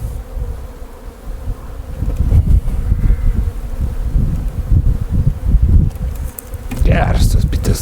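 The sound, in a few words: honey bees buzzing around a hive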